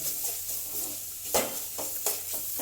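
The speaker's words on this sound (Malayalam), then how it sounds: "ചൂടായി വരുന്നവരെ ഇളക്കുക" Kothu parotta is stirred in a heavy pan with a soft sizzle underneath, punctuated by a few distinct scraping strokes of the spatula against the metal.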